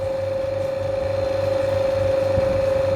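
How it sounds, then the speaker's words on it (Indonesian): Electric motor running at 1452 rpm on a lab bench, giving off a steady, strong hum with a low, regularly pulsing drone underneath, close and continuous. "Untuk kecepatan motornya dihasilkan sebesar 1452 rpm"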